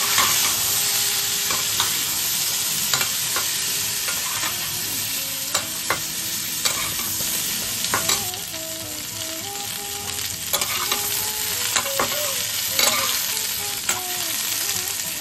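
Par-boiled shukto vegetables fry in a spiced oil tempering with a continuous loud sizzle, interrupted by frequent clinks and scrapes of a spatula stirring the pan.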